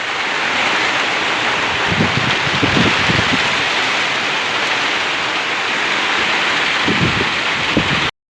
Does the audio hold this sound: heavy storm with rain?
yes